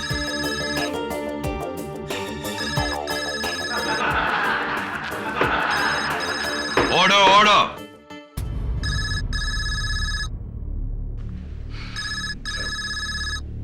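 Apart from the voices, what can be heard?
mobile phone ringing in courtroom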